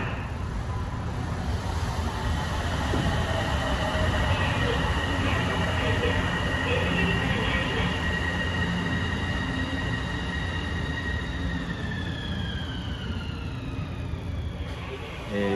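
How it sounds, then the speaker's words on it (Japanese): A Kobe Portliner automated train pulls into an elevated station, its steady rolling rumble and rising electric motor whine sustained throughout, close and fairly loud with a faint tonal squeal near the end. "三宮駅電車が入ります。"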